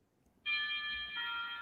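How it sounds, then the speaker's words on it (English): A doorbell chime sounds at home during a live MMA fight companion broadcast: one sustained electronic tone, fairly faint, ringing on alone with no talk. "is that your doorbell?"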